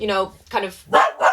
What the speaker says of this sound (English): Apologies, that's the dog.